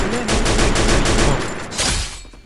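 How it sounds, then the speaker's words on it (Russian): Rapid bursts of automatic gunfire from a team shooter video game, dense and loud, with a short pause and a final burst near the end, and no voices heard over the shooting. "я вот стреляю"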